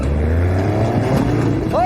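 A motorcycle engine, borrowed on a street by plainclothes police, runs with a steady low drone that rises in pitch as it revs up near the end, with voices over it.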